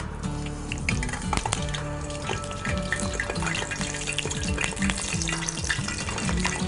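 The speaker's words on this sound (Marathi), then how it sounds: "आणि हे स्लो फ्लेमवरती फ्राय करायचं आहे, जेणेकरून वरती त्याला कलर गोल्डन ब्राऊन असा येईल." Dahi ke sholay frying in hot oil over a slow flame, giving a steady, dense sizzle and crackle with occasional clinks and scrapes of a utensil in the pan.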